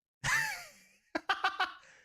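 A frog's dying sound effect for a card game: a breathy, gasp-like exhale followed by a quick string of four short stuttering croaks, close and faint, no talking.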